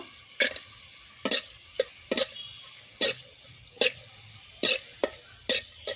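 Cashews fry in hot white oil with garam masala and bay leaves, broken by a series of sharp, evenly spaced stirring scrapes over a faint low sizzle, close by with no talk.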